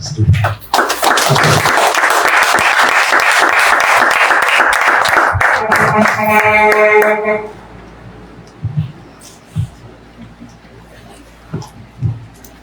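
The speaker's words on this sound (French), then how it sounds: "je vous demande de vous applaudir" An audience at an academic year opening ceremony claps loudly and densely for several seconds, then the applause fades into scattered claps and voices.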